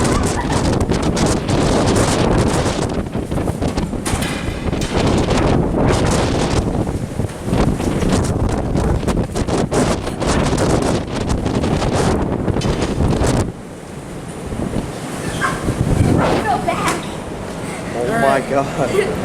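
Strong wind buffets the microphone on the deck of the cruise ship Grandeur of the Seas, roaring loudly and continuously with gusty swells, while people exclaim and talk through it.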